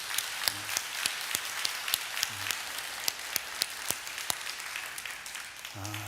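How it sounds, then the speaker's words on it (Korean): A large congregation at a worship festival claps in a sustained round of applause, a dense crackle of many hands with sharper individual claps popping out, fairly far off in a big hall. "우리 하나님께 우리 영광의 박수 올려드립시다"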